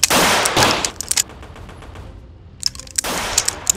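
Rifle gunfire crackles in a period action-drama shootout: dense bursts of sharp shots at the start, a quieter gap with scattered cracks, then another rapid volley near the end, loud and close.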